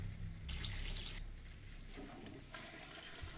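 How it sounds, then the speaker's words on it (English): A toilet flushes in the horror game Dungeon Nightmares II, with a hissing rush of water that swells, fades, then surges again in a second burst, close and clear with no talk. "Good flushing."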